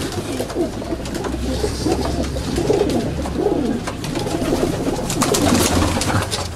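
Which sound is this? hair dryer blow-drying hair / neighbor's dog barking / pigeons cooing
pigeons cooing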